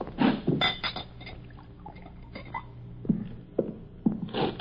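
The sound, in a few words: drink poured into a glass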